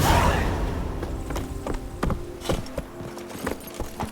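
Hoofbeats of Roach, the horse in The Witcher 3, a quick repeating clip-clop rhythm of sharp thuds at a gallop, fairly close and steady after a loud swish at the start.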